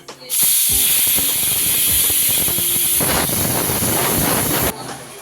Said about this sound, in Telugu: దీన్ని మనం ఇప్పుడు ఆవిరి బయటకు వచ్చే వరకు ఓపెన్ చేసుకుందాం విజిల్ని